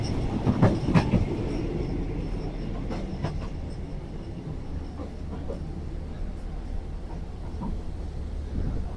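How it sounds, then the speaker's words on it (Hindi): A Thai local train coach rattles and clatters steadily as it moves, with continuous rumbling wheels on the track and occasional sharp knocks, close and fairly loud throughout. "बोगी किस तरीके से हिल रही है"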